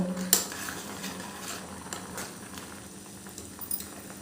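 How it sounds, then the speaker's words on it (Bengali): Green banana peels simmering in a pot of water, a quiet, steady bubbling with soft pattering and a few faint clinks, fairly low in level throughout. "দেখো এটা আমার ফুটে উঠেছে।"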